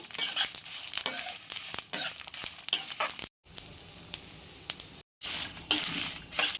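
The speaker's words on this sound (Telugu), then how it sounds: "ఎండుమిర్చి 10-15 అట్లా వేస్తాం. వీటన్నింటినీ మంచిగా వేయించుకోవాలి." Ten to fifteen dry red chillies frying in a pan while being stirred, a busy close sizzle broken by repeated rapid scraping and clinking strokes, with two short silent cuts and no talking.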